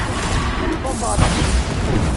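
Bombarda blasting spell explosions in the Hogwarts Legacy video game, a dense, continuous rumble of booms and bursts with a stronger hit near the middle, loud and sustained under a spoken voice.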